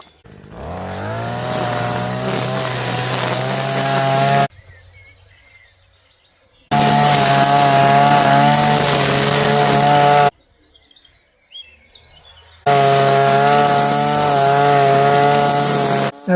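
Power tool cutting back brambles at a garden approach: three loud, sustained buzzing bursts of several seconds each, separated by near-silent pauses with faint birdsong.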